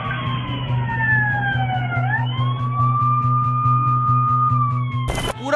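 A jewellery showroom's security system in Jangpura, Delhi, sounds a loud police-style siren, its sweeping wail rising and falling over a steady low hum, ending with a sharp burst of noise.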